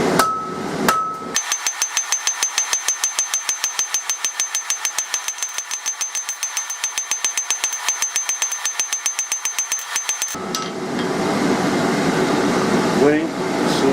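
A hammer strikes hot steel, tapering the reins of forged tongs in a fast, even run of several dozen loud, close blows over a steady fan-like hum, then the hammering stops and the hum continues.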